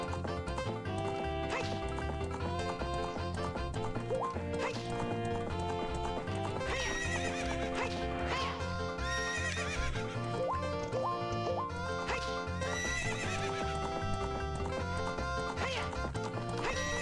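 Horse hooves clip-clopping at a gallop with whinnies in The Legend of Zelda: Ocarina of Time on the Nintendo 64, steady and prominent under game music.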